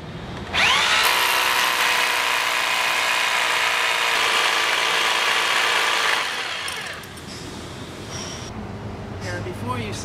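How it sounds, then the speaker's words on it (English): A diamond core drill on a stand bores a hole in concrete for a drop-in anchor, a loud steady grinding whine that runs for about six seconds and then drops to a lower hum as the drill winds down. "first we'll begin by drilling our hole for our drop-in anchor."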